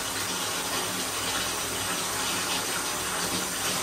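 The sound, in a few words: hotel shower running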